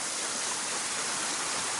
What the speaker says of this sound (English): came across this waterfall